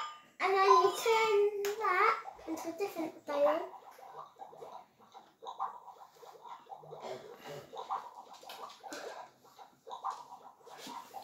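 Fizzing, bubbling potion from a Beast Lab toy science kit, a soft wet gurgle that continues beneath a child and an adult talking, with the talk louder at the start.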